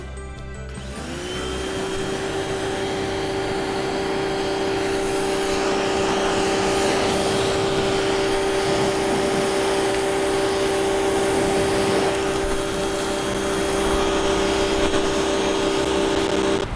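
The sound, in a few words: pressure washer cleaning paint off a wooden arbor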